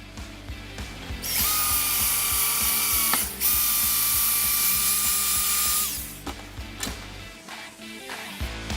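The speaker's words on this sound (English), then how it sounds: "We'll drill the second hole real quick." A power drill bores a hole through a Chevy Colorado roof during a Prinsu roof rack install, a loud steady whine running for about five seconds between clicking ratchet-like mechanical sounds.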